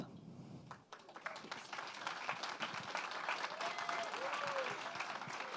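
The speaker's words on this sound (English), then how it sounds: "Let's keep the applause going." Sustained applause from a tech conference audience after a startup winner is announced fills the room, steady and dense throughout after a brief quieter moment at the start.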